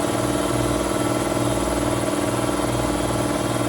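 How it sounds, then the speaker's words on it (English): Steady, continuous broadband hiss with a low mechanical drone underneath, loud and unbroken throughout, from a leaking compressed air line on sandblasting equipment. "So that noise you're hearing is the leak down there"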